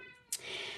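A rescue cat gives a single short meow in the background of a quiet indoor room, faint and brief.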